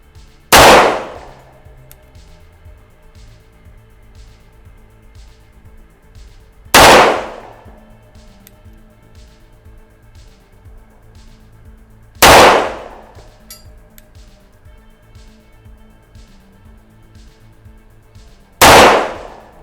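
Four single pistol shots from an S&W 4506 ring out sharply and loud at a slow, even pace, several seconds apart, each with a brief echoing tail and quiet pauses between.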